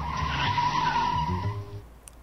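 Tyres of a 2019 Mercedes-Benz A-Class screeching during a moose avoidance test, a loud sustained squeal for about two seconds that fades out abruptly.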